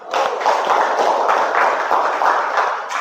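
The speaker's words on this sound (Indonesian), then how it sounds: "tepuk tangan untuk kita semua" Classroom applause as students clap together at the end of a physics lesson, a dense, even wash of clapping that runs steadily from start to finish.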